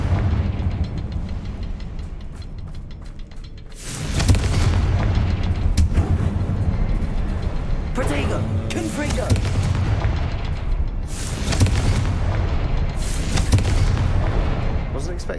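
Booming blast from a Confringo explosion spell in a game, a sudden loud burst around four seconds in followed by further rumbling booms, with speech and noise running throughout.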